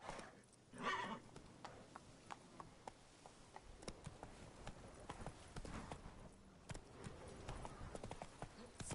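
In The Witcher 3, a horse's hooves clip-clop in a rapid, rhythmic gallop that carries on throughout, with a neigh near the start, and a voice speaks briefly over the hoofbeats.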